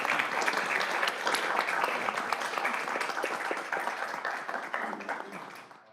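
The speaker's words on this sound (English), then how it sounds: "If we can get a round of applause." Audience applause fills a city council special meeting, a dense, steady clapping from many people that holds strongly for several seconds and then begins to taper off at the end.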